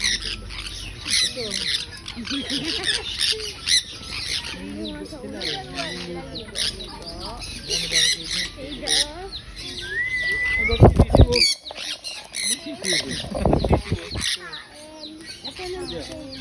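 A bird squawks and chirps in short, sharp bursts near at hand, mixed with clucking calls and bits of background talk in an outdoor setting.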